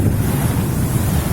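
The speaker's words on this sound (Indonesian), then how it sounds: "Suaranya kenceng ya. Ombaknya gede banget." Big Red Sea waves at a Jeddah beach roar loudly and continuously, mixed with heavy wind buffeting the microphone.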